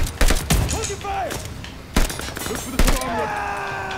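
Several loud shotgun blasts from a 12-gauge in Call of Duty: Vanguard arrive in spaced bursts, each sharp crack trailing a brief echo, with game effects and faint voices in between.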